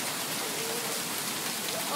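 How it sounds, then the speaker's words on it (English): Heavy rain pours steadily during a hail storm in Cardston, a dense even hiss of drops on surfaces with no break across the whole stretch. "It's just rain"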